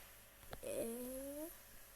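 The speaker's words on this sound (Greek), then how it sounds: "Εδώ πέρα η γάτα μου είναι στα κέφια της" A pet cat vocalizes once with a brief rising-and-falling meow, quiet and close against a faint background hum, with a short click just before it.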